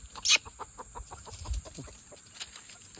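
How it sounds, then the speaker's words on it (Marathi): Country hens cluck in short, irregular bursts close by, with a few sharper squawks, in a quiet farmyard with no talk. "मित्रांनो आपले हे पक्षी आहेत"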